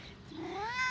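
A single close cat meow, rising and drawn out in pitch, short and fairly soft with nothing else around it.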